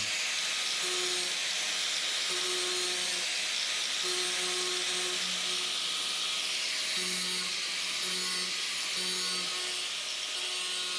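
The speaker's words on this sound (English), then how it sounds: "I'm just gonna go back with the grinder and clean up some of the little bits of plastic and stuff that weren't perfectly clean" A grinder cleans bits of plastic from the underside of a 2009-2013 Subaru Forester, giving a loud, continuous abrasive hiss with a faint tonal hum that pulses on and off.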